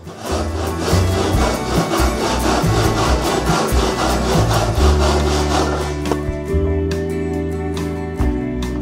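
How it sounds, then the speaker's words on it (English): A fine-tooth hand saw works through tiny wooden moulding in a small mitre box, giving loud, close, rhythmic back-and-forth rasping strokes that change pitch as the cut deepens. "it's just as easy to use a little mitre box and a fine-tooth saw"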